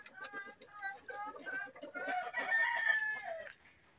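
In a backyard breeding pen, chickens cluck in short repeated bursts, then a rooster crows in a long, wavering call from fairly close, with faint farmyard background beneath.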